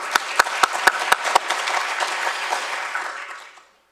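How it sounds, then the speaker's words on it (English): An audience at a lecture gives a round of applause: a few sharp, evenly spaced loud claps at the front, then a dense spread of clapping that fades out to silence. "Round of applause for them."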